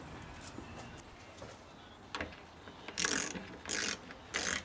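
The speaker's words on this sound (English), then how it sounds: "So these are supposed to be tightened down to 5 Newton meters, which really isn't very tight." Ratchet clicks from tightening the radiator bolts on a Toyota Sienna, a few short bursts of rapid clicking in the second half, close and fairly quiet, with no talk over them.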